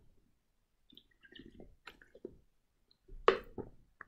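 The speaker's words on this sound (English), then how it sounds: "i just want to take a sip of water before i continue" A person takes a sip of water during a calculus lecture, with soft wet swallowing and slurping sounds, then a louder gulp near the end, close and quiet.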